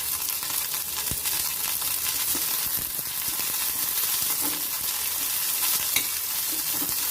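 Cumin seeds and white sesame seeds fry and sizzle in a pan for a kharda chutney, with a steady crackling hiss, occasional sharp pops and light stirring scrapes throughout.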